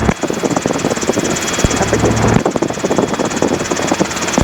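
Robinson R22 helicopter engine running in flight, a steady droning hum with rhythmic rotor pulsing throughout, close and loud, with a brief radio tone partway through.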